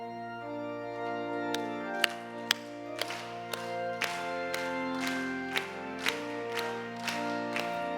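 Children clap together in a steady, even beat at a church summer Bible school service, crisp and regular over sustained organ-like music that carries a sung hymn.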